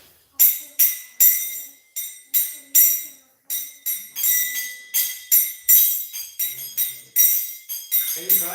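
Small kartal hand cymbals struck in a steady rhythm, about twenty bright metallic clinks with ringing high overtones, close and loud, the ring alternately damped and left open.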